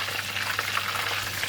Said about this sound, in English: So now I'm going to flip it by using 2 spatula, one to support the other side and another one to flip it.